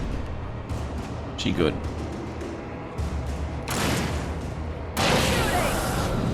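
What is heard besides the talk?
gunfire from the Alan Wake video game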